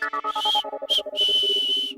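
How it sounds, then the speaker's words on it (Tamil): A whistle blown in a Tamil TV serial scene: a sharp, shrill blast followed by shorter tweets and a longer sustained toot, loud and close over a tonal musical background. "விசில் கேக்குதா? விசில் ஒண்ணு."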